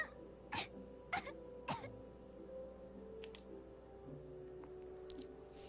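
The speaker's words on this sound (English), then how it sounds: "The sacks are coughing." Short muffled coughs and throat-clearing bursts come from under sacks in the video game Victoria's Legacy, three close together in the opening seconds and a few fainter ones later, over a low steady hum.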